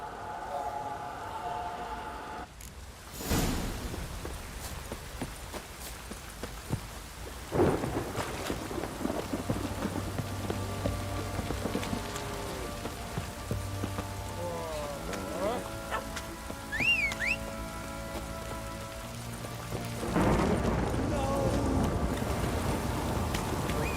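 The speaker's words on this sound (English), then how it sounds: "This downpour's a bastard," Thunder cracks and rolls through a heavy downpour in The Witcher 3 game, rain hissing steadily throughout with several loud booms, one near the start and others later, plus quieter game sounds in between.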